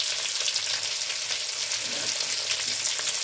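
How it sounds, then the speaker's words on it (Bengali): Pointed gourd (potol) fries in a pan, giving a constant, close, hissing sizzle with little change and faint stirring underneath, no voices. "এখনও পটলটা ভাজা হচ্ছে অবশ্য।"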